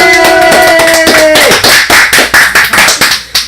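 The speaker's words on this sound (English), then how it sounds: "I think we might have to do our planned studio audience applause" A few people in a room break into a burst of lively applause, loud and close, the claps then thinning into scattered separate slaps toward the end, with a whoop or exclamation mixed in at the start.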